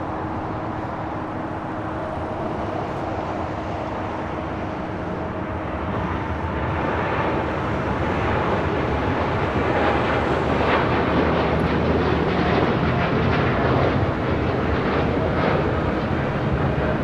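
An American Airlines jet bound for Tokyo Haneda rolls down runway 25R at LAX, a steady roaring engine noise that swells louder and broader about halfway through and holds at full power, heard from a distance with no talking.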